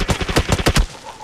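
Rapid gunfire from the video game PUBG Mobile: a burst of about eight sharp, loud shots in quick, slightly uneven succession, then a short quiet tail.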